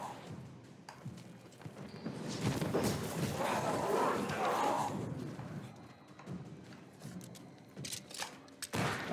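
Gunfire and combat in the video game Banishers: Ghosts of New Eden, with bursts of shots and thuds over a swelling fight mix, sharp transients near the end, moderately quiet overall.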